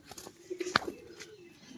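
A pair of tumbler pigeons, the kind that roll on the ground, give a soft, low coo close by, with a sharp click in the middle and faint background noise.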